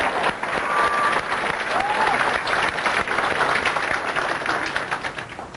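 A crowd at a Forever Living gathering applauds Rex, steady loud clapping that runs throughout without a break, with a faint voice now and then.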